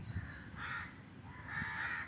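A crow caws repeatedly near a fruit tree covered with netting, three harsh, clear calls spaced apart against faint background noise, with no voices.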